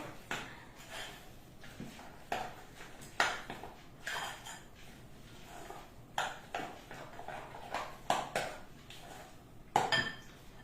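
A spoon works through a savoury carrot cake batter seasoned with cumin in a bowl, making repeated clinks and scraping strokes at an irregular, steady pace. The sound is close and moderately quiet, with no talking.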